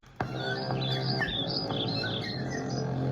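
Birds chirp and tweet in quick, high trills around the Old Port. The calls sit fairly close over a steady wash of outdoor background noise, and no one speaks.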